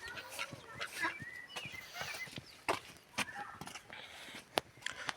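Chickens roam loose in a backyard garden, their soft clucks and scattered calls rising at moderate distance alongside occasional sharp clicks and knocks, with no talking.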